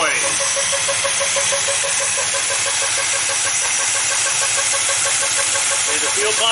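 A rebuilt car engine with an Edelbrock carburetor idles steadily with a fast, ticking mechanical clatter and hiss from the fuel pump running through it, close and continuous.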